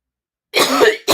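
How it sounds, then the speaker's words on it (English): Two dry, harsh coughs from a person, loud and close, the first longer and the second cut short, breaking out after a moment of silence. "I've been having a dry cough."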